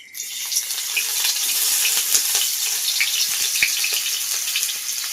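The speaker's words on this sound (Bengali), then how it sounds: "এবার এর মধ্যে আমি দিয়ে দেবো পেঁয়াজ কুচি" Chopped onion sizzles in a little oil in a pan, a steady bright hiss with scattered crackles and pops running throughout, close and fairly loud, no voices.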